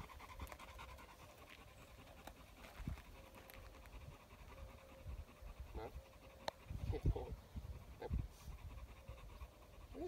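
A Belgian Malinois pants steadily and close, fast rhythmic breaths continuing throughout, with a few faint scratches and brief soft voices in the background.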